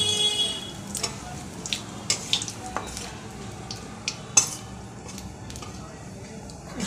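Nigella seeds and dried red chillies tempering in hot oil, with a low steady sizzle broken by scattered sharp crackles and a few stirring clicks, close by.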